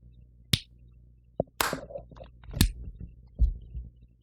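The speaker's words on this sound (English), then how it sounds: "we didn't clap sync" A few sharp single hand claps for syncing recordings in a quiet room, close and fairly soft, spaced apart, with faint handling noises and no talking.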